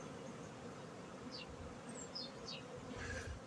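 Honey bees on a spring cleansing flight around their hives buzz faintly in the open air, with a few individual bees passing close by against a soft outdoor background.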